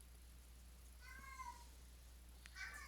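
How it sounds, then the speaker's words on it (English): A pet cat lets out a weird, sad-sounding cry indoors, two short drawn-out meows, faint and alone in a quiet room. "That was a really weird, kind of sad cry from my cat there."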